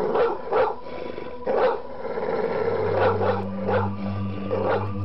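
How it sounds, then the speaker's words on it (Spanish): A dog in a mansion barks in short, sharp bursts, about six barks spread unevenly across the stretch. A low steady hum joins partway through. "el perro comienza a ladrar e inquietarse"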